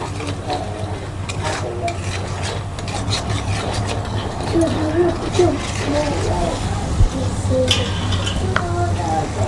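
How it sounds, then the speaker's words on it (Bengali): Spices (turmeric, chili, cumin and coriander powder) stirred and fried in a pan for a paneer dish, a steady scraping and rubbing of the spoon over a soft sizzle, with a voice talking faintly underneath. "এবারে মশলাটাকে ভালো করে কষিয়ে নেব।"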